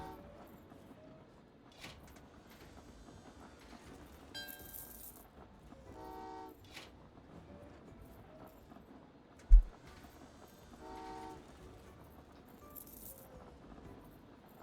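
Small game trains run in the railway puzzle game Train Valley 2, with quiet chugging, faint rattles, a few short rising toots and synthetic chimes over low, sparse background sound.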